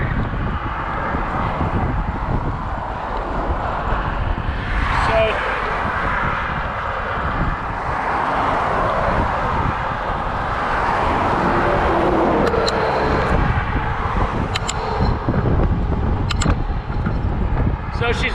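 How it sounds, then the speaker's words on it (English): Road traffic rumbles past loudly and continuously, with whooshing vehicles and wind buffeting the microphone throughout. "A lot of traffic, so I'm going to stop talking till it goes by."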